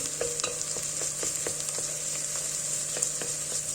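Tomato paste and dried mint frying in a pan for a tarhana soup, a steady close sizzle with regular stirring scrapes and taps of the spoon, no voices.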